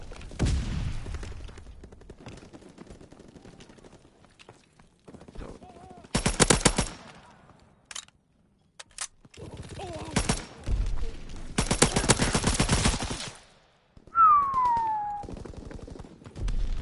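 M2 Carbine gunfire in a video game, heard as loud, rapid automatic bursts separated by quieter gaps and scattered single shots.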